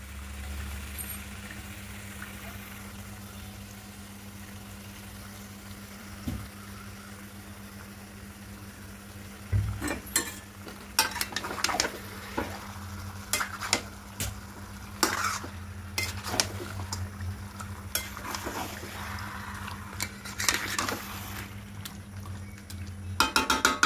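Chicken pieces for malai curry are stirred in a pan with a utensil over a low frying sizzle, a steady hum underneath and quiet for the first ten seconds, then a series of sharp scraping and clattering strokes, close up with no talk.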